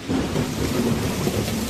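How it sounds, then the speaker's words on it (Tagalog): Heavy rain pouring steadily as a dense, continuous wash of noise, loud and close with no voices. "Napakalakas naman ng ulan na ito."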